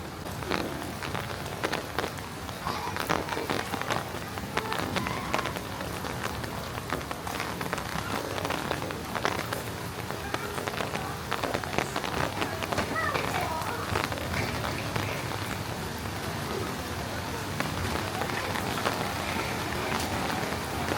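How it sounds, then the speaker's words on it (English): Heavy rain falls steadily on surfaces in a historic district in China, a dense, continuous patter that stays loud and close throughout. "The rain is already very heavy."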